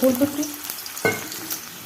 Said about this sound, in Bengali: আলুগুলো একটু ভাজা ভাজা করবো